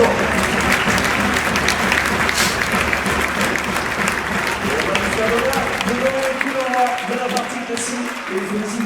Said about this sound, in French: Je vous demande d'applaudir bien fort Morgane Lercunado,